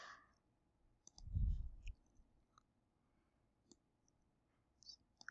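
A computer mouse gives a few sparse, sharp clicks during a Power BI spreadsheet session, faint and close amid quiet background with a brief low thump.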